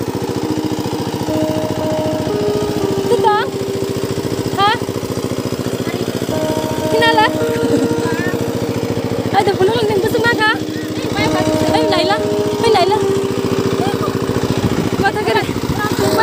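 A tractor engine runs steadily in a paddy field, a continuous mid-pitched drone that holds for the whole stretch, with people talking over it.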